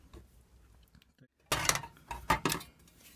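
Plastic cover of a TCA-02 tachograph being pried off with a knife, a quiet run of faint taps, then a sudden loud clattering snap and a few more sharp plastic knocks, close up.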